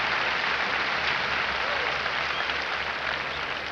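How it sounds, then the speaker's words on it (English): Stadium crowd at a 1980 North Carolina at Clemson college football game applauding as an injured player is carried off on a stretcher, a steady, dense roar of clapping and cheering that fills the whole stretch without letup. "And now they're applauding as Terry Kennard is being lifted onto a stretcher"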